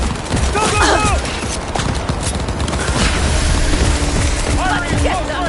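Gunfire in the video game Cyberpunk: loud, dense bursts of shots and booms run continuously through the clip, heavily layered with shouting voices and chatter over the top.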